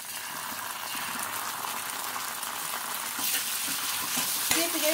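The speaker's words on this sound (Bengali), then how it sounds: "পেঁয়াজের সঙ্গে আদা রসুনের পেস্টটা একটু ভালো করে কষিয়ে নেব।" Onion with ginger-garlic paste sautéing in a pan, giving a steady, even frying sizzle throughout that grows slightly louder toward the end, with faint stirring and a brief clink near the close.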